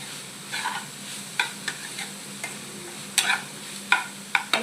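Coconut is stirred into goru chikkudikaya curry in a pan: a handful of sharp, separate spoon scrapes and taps over a quiet background sizzle.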